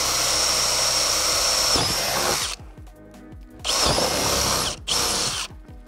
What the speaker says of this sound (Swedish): Så då har vi markerat hålen och då kan vi borra rätt igenom då.